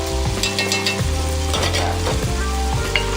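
Minced garlic with its juice fries in a pan for jambalaya, a loud, continuous close sizzle with occasional bubbling bursts and faint utensil movement.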